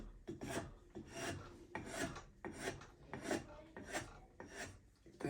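A hand file rasps across wood to thin one side down, about nine firm back-and-forth strokes in a steady rhythm, close and fairly quiet.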